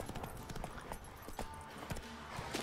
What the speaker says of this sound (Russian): Эта лошадь бесполезна на пересеченной местности.